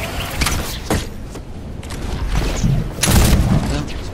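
Gunfire in the video game Fortnite, with bursts of shots and booms in quick succession, dense and fairly loud, with a player's voice talking over parts of it.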